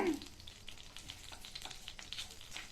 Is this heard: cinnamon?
yes